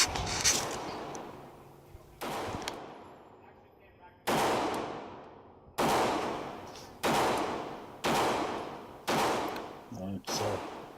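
A Smith & Wesson M&P Shield pistol fires at a target 21 feet away, with about eight loud, sharp shots close by, each trailing off in a reverberant tail, spaced roughly one to two seconds apart.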